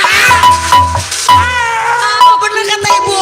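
A performer in a live Betawi topeng theatre show imitates fighting cats, with loud, repeated yowling meows in bursts over a steady background of music and crowd noise.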